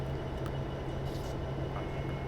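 Freight train rolling past on Cajon Pass in Train Simulator 2020, a steady low rumble of wheels and cars that holds at an even level throughout with no talking.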